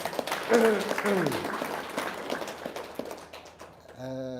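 Studio audience applause breaking out under talk, scattered clapping with voices speaking over it, fading out before a sustained tone enters near the end.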